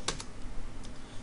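A few quick keystrokes typing a Java compile command on a computer keyboard, close and brief, with no speech.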